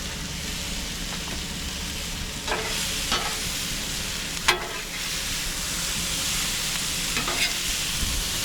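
Fajita meat and bacon sizzle steadily on a hot griddle while being stirred and mixed together, with a constant crackling hiss and occasional scraping clicks.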